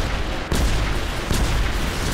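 Space-weapon gunfire from battling robots in War Robots on PC: heavy booming shots land in a couple of sharp bursts over a dense, continuous rumble of combat.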